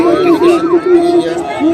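A wailing fire brigade siren sweeps up and down, loud and close, over crowd chatter and voices during a night-time mock drill in Amritsar.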